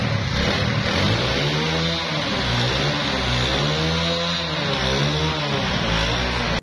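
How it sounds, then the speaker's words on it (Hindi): A 70cc motorcycle engine running after carburetor restoration and fuel adjustment, idling loud and close with a rough, uneven putter and small swells of revving throughout. "फिर आपने बाइक को स्टार्ट करना है।"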